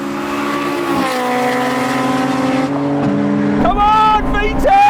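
Cars accelerate side by side in a roll-in drag race, engines droning and rising in pitch through the gears with a shift near the end, loud and continuous, with an excited voice talking over them.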